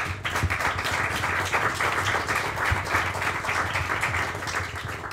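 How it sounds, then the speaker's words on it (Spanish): Steady audience applause at a streamed anniversary event, dense continuous clapping at moderate level throughout, without pause. "Aplausos."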